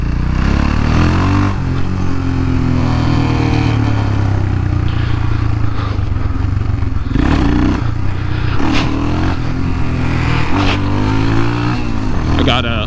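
Royal Enfield Himalayan motorcycle with a cam and big bore kit accelerating hard, close engine note rising through revs with wind rush and clatter, a voice talking over it.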